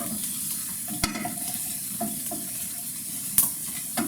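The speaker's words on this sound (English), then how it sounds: "let's give the garlic maybe a minute to cook in that oil." Garlic fries in oil in a pan with a continuous, close sizzle, broken by a few sharp clicks and scrapes of stirring; no voices.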